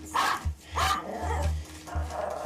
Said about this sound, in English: And once we got Jenny, our neighbour complained about her barking 24 hours a day